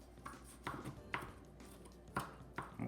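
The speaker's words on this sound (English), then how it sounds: "we're just going to basically cut up the tomatoes into small little diced pieces" A knife dices tomatoes for bruschetta on a cutting board, giving sparse, fairly quiet chops in an uneven rhythm, about six distinct strikes close by.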